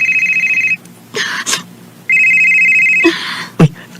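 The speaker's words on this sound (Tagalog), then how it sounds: "Uy, ang akong phone." A phone rings in two electronic bursts of rapid pulsing tones, loud and close, separated by brief rustling and clunking handling noises.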